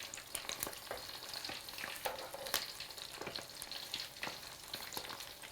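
Tempura-battered prawns fry in a pan of hot oil, a close, busy crackle and sizzle with bursts of sharper pops throughout, no voices.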